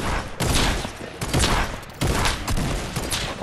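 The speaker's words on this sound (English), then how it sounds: "I'm just sniping out here, because your boy's a beast" Sniper rifle shots ring out in the video game Fortnite, with three or four loud, sharp blasts spaced about a second apart over a constant roar of game noise.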